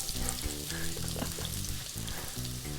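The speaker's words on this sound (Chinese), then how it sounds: "所以我们倒点油， 然后把我们的shallot 放上去" Shallots frying in hot oil make a loud, dense sizzle that holds steady from start to finish, close up and alone, with faint tonal background sounds underneath.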